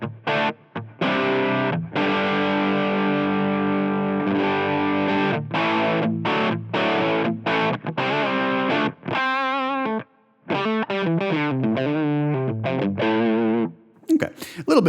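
Electric guitar played through a Line 6 Helix German Mahadeva amp model with light compression, high and low cut and a little reverb, heavily distorted chords and riffs ringing out loud and close with brief pauses, no talking.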